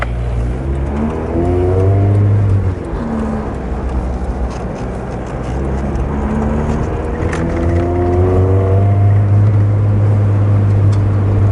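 A car engine with a modified exhaust and intake revs and accelerates, loud and close, its note rising and falling through repeated throttle pulls, with a deep lumpy rumble underneath.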